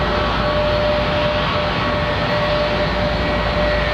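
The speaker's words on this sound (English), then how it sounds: "the same kind of sound that we're going to get from the RB211s, of course, the lovely old Rolls-Royce engines on that 757" Boeing 757 jet with Rolls-Royce RB211 engines at London Heathrow Airport, a loud, steady engine roar with a whining tone, filling the whole stretch without a break.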